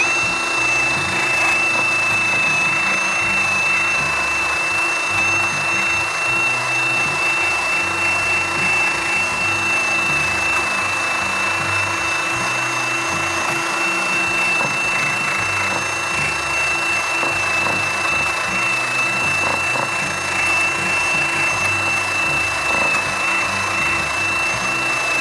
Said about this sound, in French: j'ai tout simplement utilisé une brosse métallique que j'ai installée sur ma perceuse